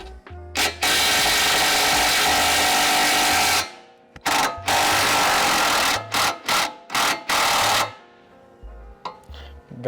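A 17 mm socket drives the lower shock mount nut and bolt on an NA Miata during a Koni suspension install, giving loud, harsh bursts of power-tool whirring with several short stop-start pulses and brief quiet gaps.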